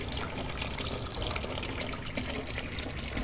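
Torn vegetable leaves and whole vegetables dropped into a bowl of water for a whole-boiled dish, giving a steady close splashing and trickling of water with no talk.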